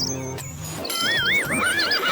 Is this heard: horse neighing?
yes